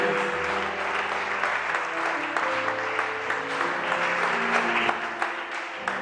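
A church congregation applauds and cheers for Jesus at a French-language gospel service, steady loud clapping and voices filling the room without a break.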